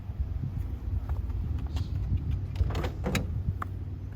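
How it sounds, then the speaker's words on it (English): The hood of a 2018 Karma Revero hybrid, a reverse-opening Corvette-style hood, being popped: a few soft mechanical clicks and a thunk of the latch releasing, heard close up over a low steady background hum. "Let's pop the hood."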